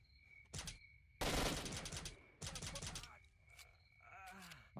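Gunfire in STALKER 2, several loud sharp bursts of rapid shots separated by brief pauses, with groaning voices and game sounds in between.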